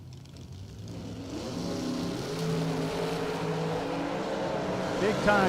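Door-slammer drag racing cars, including a 1978 Camaro, revving and launching off the start line. The engine tones climb steadily from low to high while an announcer talks over them.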